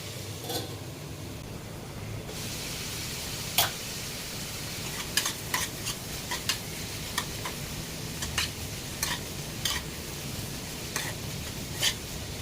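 Onions cook in a covered pan under a steady low sizzle, with sharp irregular clicks and ticks scattered through it, probably from the lid or the pan.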